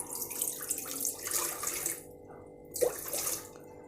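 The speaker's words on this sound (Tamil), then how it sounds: "நம்ம கொஞ்சமாக தண்ணி ஊற்றிக்கலாங்க." Water pours from a tap into a rice cooker as pongal is prepared, a soft splashing trickle in short bursts with a brief pause in between.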